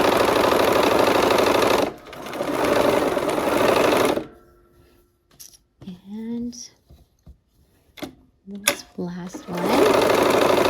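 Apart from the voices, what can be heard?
sewing machine stitching quilt block units together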